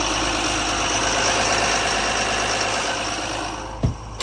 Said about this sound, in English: Little one banger diesel for a generator.